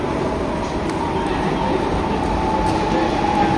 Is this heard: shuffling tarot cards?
no